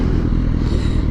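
A motorcycle engine with its exhaust baffle in, a loud, close, gritty rumble that holds steady through a brief burst.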